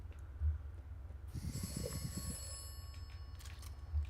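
A mystery telephone in the video game Atomfall rings with a sustained, bright electronic bell tone that starts partway in and keeps going, over a low background hum with a couple of soft thumps.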